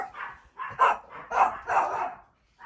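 A puppy yaps in a rapid string of about five sharp, close barks, with short pauses between them, then goes quiet. No one speaks.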